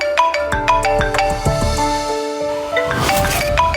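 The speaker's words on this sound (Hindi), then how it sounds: "फोन आ रहा है किसी का।" A melodic phone ringtone plays loudly nearby, a bright chiming tune of quick notes with some rustling noise toward the end.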